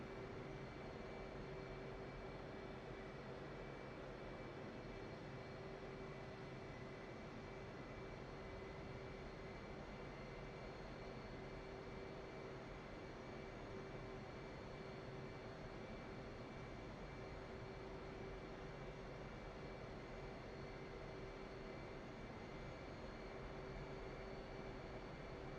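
Jet aircraft taxiing toward the runway in the DCS World flight simulator, a steady low engine drone with a constant whine, even and unbroken throughout.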